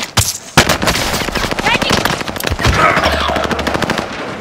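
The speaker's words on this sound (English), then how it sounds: "We're taking fire." Loud, close automatic gunfire in Call of Duty: Warzone rattles in rapid sustained bursts, with in-game voices talking over the shots.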